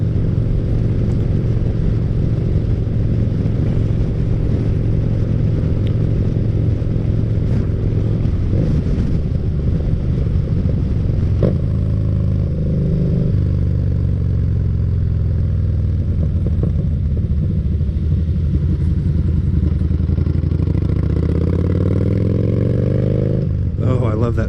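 A motorcycle engine drones steadily while riding, with shifting pitch as it revs and changes gear under constant wind rush, loud and close throughout.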